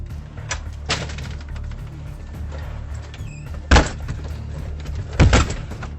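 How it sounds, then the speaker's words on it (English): Armed, masked intruders kicking at a house door on security camera footage: several hard, booming thuds at irregular intervals, two of them especially loud, over a low steady background hum, with no voices. "Two of the suspects made several attempts to kick the door and force it open"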